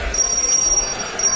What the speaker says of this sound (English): Will you stop ringing the bell?